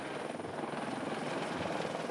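Helicopter used to herd reindeer in remote Arctic mountains of Sweden, its rotor chop a steady, fairly distant, rapid thudding drone with no talk.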